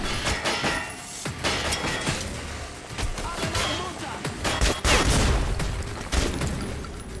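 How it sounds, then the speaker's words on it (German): Dense, sustained gunfire from the shooter Metro Last Light, with rapid bursts and heavy impacts filling the whole stretch, strongest near the end, mixed with other game sounds. "Ein Maschinengewehr?"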